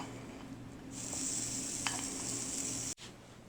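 Chaffle batter cooks in a hot waffle iron and gives a steady, fairly quiet hiss that starts about a second in and runs on under a faint background hum until a brief cut near the end.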